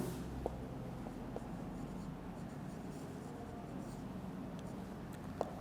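Faint, steady scratching of writing on a board during an online English lecture, continuing throughout with a few small taps.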